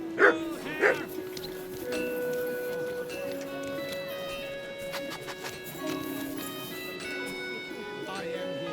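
The dog Mutt in the game Kingdom Come Deliverance 2 gives two short, sharp barks near the start, followed by soft whines, with a voice speaking and game music underneath.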